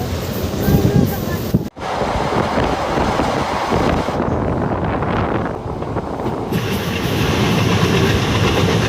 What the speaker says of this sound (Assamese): আমি বৰ্তমান ট্ৰেইনত আছোঁ। এয়া আমি ট্ৰেইনত উঠিলোঁ, নাগালেণ্ডলৈ গৈ আছোঁ।